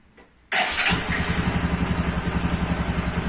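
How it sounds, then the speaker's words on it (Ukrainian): A cold Bajaj motorcycle engine fires abruptly after a brief quiet moment, then settles into a close, loud, evenly pulsing idle with a rapid regular thump. "Заводимо мотоцикл."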